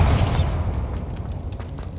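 A Bombarda blasting spell explodes in Hogwarts Legacy: one heavy, loud boom with a bright crackling burst at the start, then a rumbling, debris-filled decay that fades out over the next second and a half.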